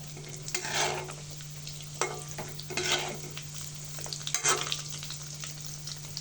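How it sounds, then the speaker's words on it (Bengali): Chicken vegetable rolls frying in a pan over medium heat, a steady sizzle with several louder bursts of spatter and scraping as they are stirred and turned, close and alone with a constant hum beneath. "মিডিয়াম জাল রেখে রোলগুলো ভেজে নিতে হবে।"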